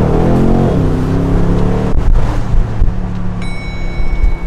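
Loud engine roar inside a BMW M850i convertible in Sport Plus mode, rising and falling in pitch as it revs and shifts, with a faint high electronic tone toward the end.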